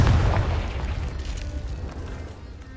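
A Confringo fire-blast spell from the Hogwarts Legacy game bursts with a heavy, booming explosion at the start, then fades into a rumbling tail.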